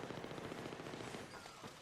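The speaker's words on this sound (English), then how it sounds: "I can hear the gunshots." Automatic weapon fire from the Battlefield 3 video game on PS3, rapid repeated bursts of gunshots running continuously through the clip at a steady, fairly quiet level with no talking.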